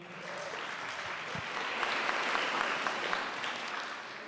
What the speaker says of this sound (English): Let's go ahead and give her a round of applause, please.